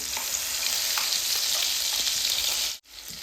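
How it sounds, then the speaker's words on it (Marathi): Ground spice paste hits hot oil with cumin seeds, giving a steady loud sizzle and frying hiss that runs unbroken, then cuts out briefly near the end before resuming. "आपण वाटण बनवलेलं टाकून घेणार आहे तेलामध्ये"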